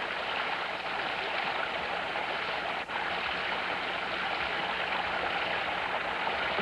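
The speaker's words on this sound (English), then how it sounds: "You can hear the water." Water flows in a stream near old apple groves on a family estate, a steady, close, broadband rush that fills the whole stretch with no voices over it.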